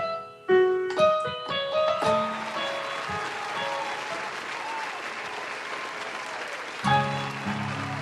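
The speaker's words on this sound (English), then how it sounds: "Yes, clap it up." An audience claps after a song, the applause swelling in over a few piano chords and holding steady before more keys return at the end.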